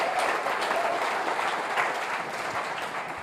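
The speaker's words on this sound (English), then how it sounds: "let's give her a round of applause again" A congregation gives a round of applause, a dense, steady wash of clapping from a roomful of people that tapers slightly toward the end.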